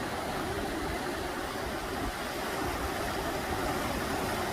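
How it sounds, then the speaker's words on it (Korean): Winter stream water rushes steadily at Yongmunsa temple, a dense, even wash of flowing water with no pauses, fairly loud and continuous throughout. "용문사 부르는 겨울 물소리가 너무도 정겹고 나를 힐링하는 그런 소리가 되었습니다."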